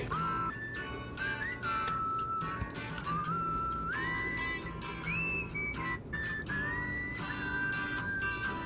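During a karaoke song, someone whistles a melodic line of sliding, sustained notes, clear and prominent over a dense, steady musical backing.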